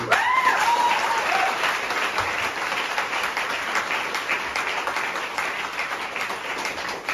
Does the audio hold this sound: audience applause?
yes